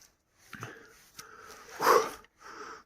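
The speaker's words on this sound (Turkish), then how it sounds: "Köpeklerimiz görünmüyordu. Ara ara sesleri geliyor." Faint sounds of Kangal dogs carry from afar, a few brief yelps and barks rising over quiet outdoor farmland air, with one louder cry near the middle.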